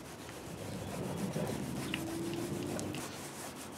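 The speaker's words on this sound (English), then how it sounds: "So you start rubbing it into the lens." Toothpaste being rubbed by hand into a car headlight lens to restore it: a steady, close, continuous scrubbing friction with no pauses and no talking.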